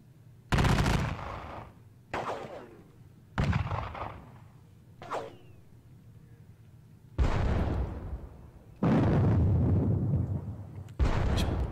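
Musket skirmish volleys and artillery blasts from a Napoleonic battle at Leipzig in a strategy video game: a series of loud, sharp bursts with rumbling tails, some isolated, others long and sustained, with no talk.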